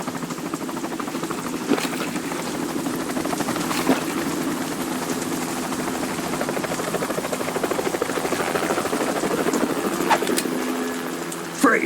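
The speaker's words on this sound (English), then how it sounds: "You will be on the helicopter out of here now." Helicopter rotor from the video game Metal Gear Solid 2, a steady loud thrumming drone holding through the whole stretch, with faint talk and occasional sharp game sounds over it.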